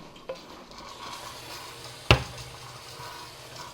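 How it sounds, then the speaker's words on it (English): Onions with white pepper stirred in a pot as they cook, a soft steady sizzle with faint scraping and one sharp clink of a utensil against the pot midway. "We're gonna mix this up and cook this until the onions get translucent"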